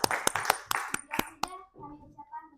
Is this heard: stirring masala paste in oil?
no